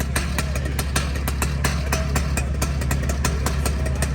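Panther chainsaw mill cutting lengthwise down a log in front of an audience at the Elmia 2025 show, a steady loud engine drone with rapid rhythmic pulsing and repeated sharp clicks running through the whole stretch.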